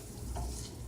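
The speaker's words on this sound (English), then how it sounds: "I can hear and see it starting to boil again" Milk gravy in a pan coming back up to a boil, a soft continuous sizzle and bubbling with a slight swell near the middle, close and fairly quiet.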